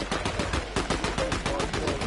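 Rapid automatic gunfire rattles in a shooter video game, a steady, dense burst of sharp shots that stays loud and close throughout with no pause.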